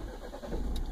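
A BMW car engine cranks and catches after a push-button start, a brief, fairly quiet whir rising into a fuller engine note at the end.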